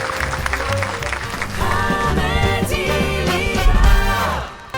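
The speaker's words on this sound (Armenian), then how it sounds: "Շնորհակալություն բարձր ծափարություններով Մաշա Մատվիևա եւ Մաշա Սկլաբ թիմը" Audience applause at a live comedy league show, steady clapping from a crowd under loud music, building briefly near the end before fading out.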